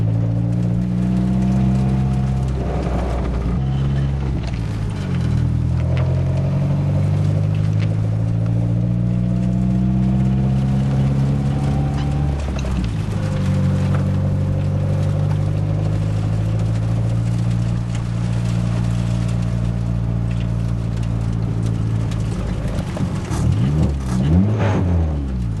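A 1990 Nissan 240SX with a loose flywheel runs steadily for about 25 seconds, its engine droning loud and close with rising and falling rev sweeps. Any knock stays buried in the drone.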